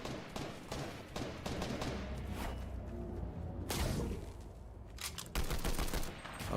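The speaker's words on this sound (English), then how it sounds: "shots being heard" Gunfire in a video game during an esports live stream: repeated sharp shots and bursts, some rapid like automatic fire, scattered across the stretch at moderate distance, with a few louder cracks near the end.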